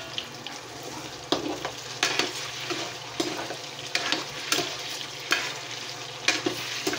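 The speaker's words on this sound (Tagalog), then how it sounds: "basta't mainit yung kawali nyo, painit yung mantika nyo" Tofu fries in hot oil in a pan, a continuous close sizzle broken by repeated scraping stirs and louder crackling bursts every second or so, with no talk.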